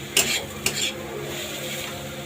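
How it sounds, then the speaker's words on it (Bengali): A spoon scrapes twice through chopped green chillies in a pan, two brief bright scrapes near the start and then a low steady kitchen hum. "ভালো মতো নাড়বো।"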